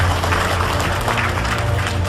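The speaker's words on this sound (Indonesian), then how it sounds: "Ya, tepuk tangan buat Bapak Ibu semua." An audience at a debt-relief seminar breaks into dense, loud applause, with steady overlapping clapping throughout.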